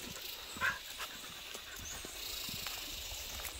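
A dog pants and faintly whimpers nearby on a farm, soft and steady against outdoor hiss, with one brief whine early on.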